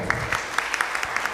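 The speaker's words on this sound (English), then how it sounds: "Please, a round of applause for her." An audience at a tech challenge ceremony applauds a speaker, with a steady patter of clapping from many hands throughout.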